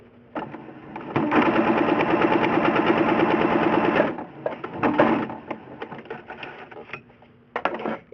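A sewing machine stitches pieces of scrappy fabric together for a heart table topper, running in a steady, close, fast rhythmic whir for several seconds, then stopping and restarting in short bursts.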